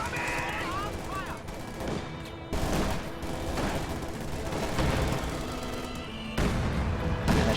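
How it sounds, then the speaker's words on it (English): Katyusha rocket barrage and heavy mortar fire in a video game battle, heard as dense rolling bursts and booms. A commentator talks over the continuous gunfire. "Heavy mortar continuing. Katyusha barrage also going off."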